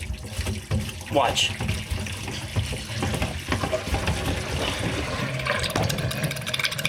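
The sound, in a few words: water draining from a trailer tank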